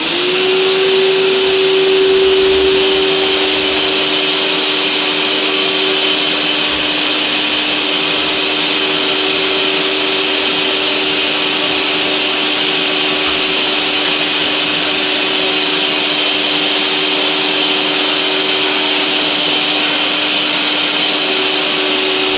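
A milling machine cuts a lathe tailstock part, giving a loud continuous whirring grind with a steady tone that holds throughout and no talking.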